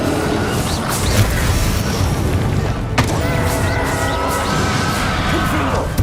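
Spell explosions in Hogwarts Legacy, loud booming blasts and crashes piling up in rapid succession over dense, continuous game noise.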